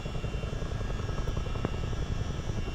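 Steady rotor and engine drone of a CH-47 Chinook helicopter in flight at low level, heard from inside as a continuous dense roar with no talk.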